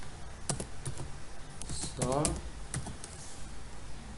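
Keys tapped on a computer keyboard in short, scattered clicks at moderate distance, with a voice speaking over part of the typing.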